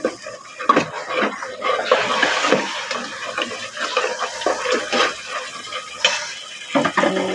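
Spices being stirred in a pot while cooking khichuri, giving close scraping and stirring sounds with bursts of sizzling and clatter, steady and fairly loud throughout, no voices.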